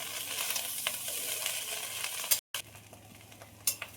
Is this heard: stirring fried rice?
yes